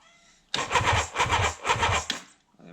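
A GT750 motorcycle engine cranks over with a rapid rhythmic churning for about two seconds without catching, while one cylinder is getting no spark; close and loud, then it stops and leaves a quiet tail.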